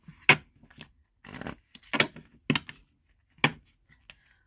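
Several crisp, papery riffling bursts, each short and sharp, separated by brief pauses. Tarot cards are being shuffled close by with no one speaking.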